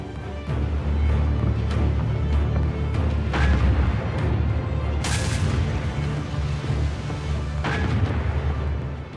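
Heavy naval guns from the battlecruiser Hood and battleship Prince of Wales fire at long range, several deep booms and sharp blasts rising over a constant low rumble of the sea battle.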